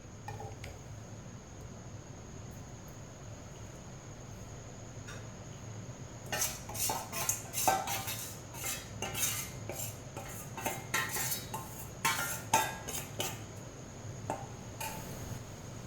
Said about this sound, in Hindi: अब आलूओं को 2-3 मिनट के लिए पका लेंगे, ऐसे ही चम्मच चलाते हुए।